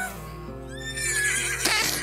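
A horse gives one loud, close whinny that rises and quavers for about two seconds, alone without any talking.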